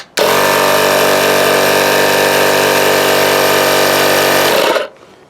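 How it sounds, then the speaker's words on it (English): Olmlmo 12 volt cordless air compressor switches on abruptly and runs with a loud, steady, rapid pulsing buzz for about four and a half seconds, then cuts off and winds down quickly. "I'm going to turn the rocker switch to the air compressor."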